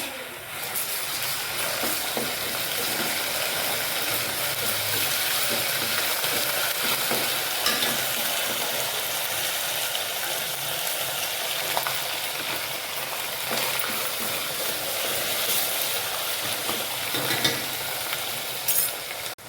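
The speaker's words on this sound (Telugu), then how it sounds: "ఆనియన్స్ బ్రౌన్గా అయ్యాయి. ఆ తర్వాత బిర్యానీ ఆకు, అల్లం పేస్ట్," Browned onions with bay leaf and ginger paste sizzle and fry steadily in a pan for chicken curry, a continuous dense crackle with occasional stirring scrapes and no talking.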